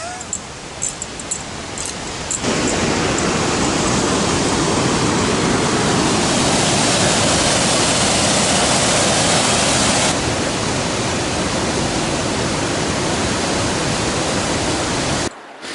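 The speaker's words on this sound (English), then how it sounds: "Let's hope it is Love Falls." Steady, loud rushing roar of Love Falls, a waterfall along a mountain trail near Sierra City, heard close up as a continuous broadband wash with no talking.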